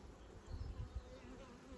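Faint, low buzzing of a honeybee swarm hums steadily in the background, a soft droning with no talking.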